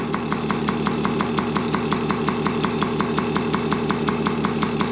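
A Yamaha PW50 dirt bike engine, just started after flooding, runs steadily nearby with a fast, even putter and a rough rattling tone, loud and constant throughout.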